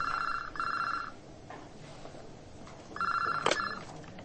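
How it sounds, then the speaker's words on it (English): A desk telephone rings in an office on a Sunday evening, with two double-pulse electronic trills separated by a pause, clear and close over quiet room noise. "the phone on my desk rang."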